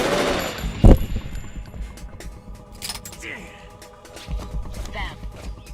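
Gunfire in the video game Metal Gear Solid 2: one loud, sharp shot early on, followed by scattered lighter cracks and clatter over a low game background.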